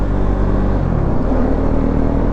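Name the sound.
Husqvarna Svartpilen motorcycle accelerating in third gear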